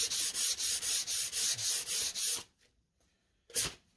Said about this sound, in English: I like to do hand sanding at all levels